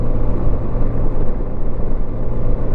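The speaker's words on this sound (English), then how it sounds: "The bike is very smooth. It's cruising at 70." A 1987 Honda GL1200 Goldwing motorcycle cruising at 70 in top gear, with a loud, smooth, steady engine drone and wind rush that holds even throughout, no voices.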